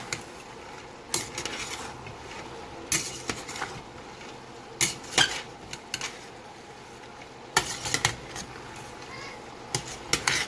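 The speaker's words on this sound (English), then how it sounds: "Give that a little stir." Red beans being stirred in a pot, with irregular clinks and scrapes of a utensil against the pot over a soft background hum.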